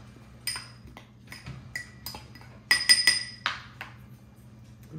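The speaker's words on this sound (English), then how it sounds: "I'm just gonna just stir this around a little bit." A fork clinks and taps against a glass or ceramic bowl while stirring a vinegar-based orange and garlic sauce, a series of sharp, close, bright clicks in irregular bursts, loudest near the middle, over a low background hum.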